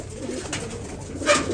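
Several pigeons in a fancy-breed loft keep up a soft, rolling cooing at close range, with a slightly louder flutter of sound near the end and no one speaking.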